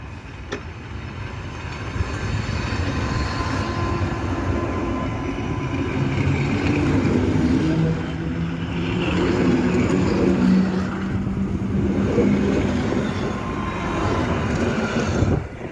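A Polregio passenger train, number 58407 to Piła Główna, rumbling steadily as it pulls away from Bydgoszcz Osowa stop, low engine and wheel noise with a droning tone rising slightly, continuous and fairly close.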